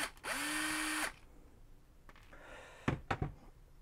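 A power drill removing screws from a GameCube whirs loudly for about a second, winding up and down, then quieter whirring followed by a few sharp clicks and clatters.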